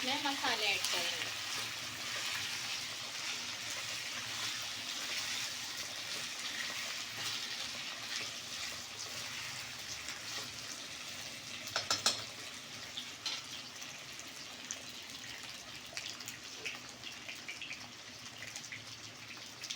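Potatoes frying in a pan with oil, a steady close sizzle and hiss that stays even throughout, with a few brief clatters near the middle.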